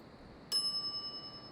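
A single bright shop bell in The Secret of Monkey Island rings once and rings on in a fading shimmer, clear and alone against a quiet room tone.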